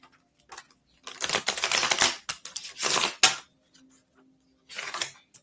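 Oracle cards being shuffled in bursts of crisp, rapid papery riffling and slapping, with a few short pauses between, fairly close and with no talk over it.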